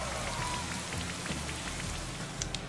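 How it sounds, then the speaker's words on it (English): Rain Dance move sound effect from Pokémon Shield, a steady hiss of falling rain with faint droplet patter and a low rumbling undertone, heard alone without talk. "Rain Dance makes a weird noise."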